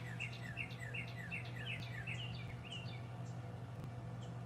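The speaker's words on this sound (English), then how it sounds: "And you can hear the cardinals calling each other." Cardinals call back and forth in a backyard, a fast series of clear downward-slurred whistled chirps repeated in quick rhythmic runs, moderately distant over a steady low hum.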